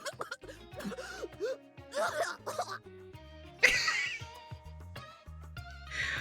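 In the video game Date Everything!, a character coughs and sputters in short wet bursts and throat-clearing sounds mixed with game music, rising to a sharper outburst partway through.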